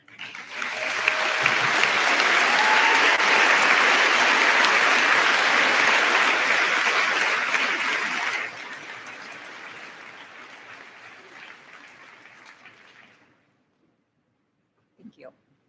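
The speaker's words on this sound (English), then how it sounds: "we'll give you a round of applause." A large crowd applauds scholarship and department award recipients at the Waconia High School graduation ceremony in May 2024. The clapping is loud and sustained for several seconds, then drops to a lighter patter and fades out.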